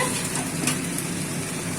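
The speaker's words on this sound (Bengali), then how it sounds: "আপনারাও দেখে নিন এটা কেমন ভাজা হচ্ছে" Spinach fries in a spice mix of fennel, carom, cumin, coriander, chili and turmeric, giving a close, steady sizzle with faint stirring, no voices.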